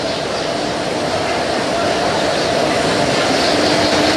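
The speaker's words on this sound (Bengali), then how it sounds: "আমরা ট্রেনে চেপে আমাদের সিটে বসে গেছি। এবার আমাদের জার্নি শুরু হয়ে গেছে" Constant rumbling drone inside a moving passenger train leaving Purulia on a school tour, steady and even throughout with a faint background murmur.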